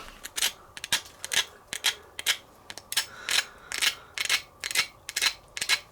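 Loud, crisp crunching of fresh baked Powerade bread being chewed or broken, about a dozen sharp crackly bursts in an irregular rhythm, close up, with no talking.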